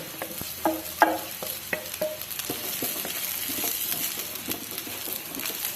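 Rice vermicelli and wilted carrots frying in a pan while being stirred, with a soft sizzle and repeated scraping clacks of a utensil against the pan.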